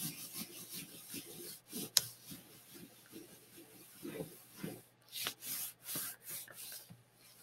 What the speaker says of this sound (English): you can take the whole thing, flip it over, and then rub the whole thing down